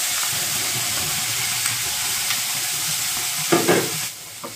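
Ground mustard and cumin paste frying with panch phoron for a fish curry, a steady close sizzle with a few louder stirring scrapes toward the end.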